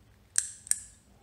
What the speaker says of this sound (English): So I'm just going to snip this guy off